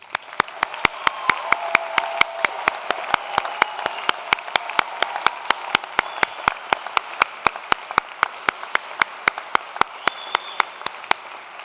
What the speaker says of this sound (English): So a bit more applause in you,